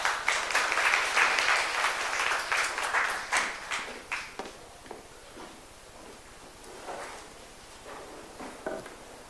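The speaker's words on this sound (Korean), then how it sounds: "여러분 따뜻한 박수 맞아주세요" Warm audience applause at an indoor gathering welcoming a speaker, loud and dense at first, then thinning out into scattered claps and a few late single hand claps before quiet.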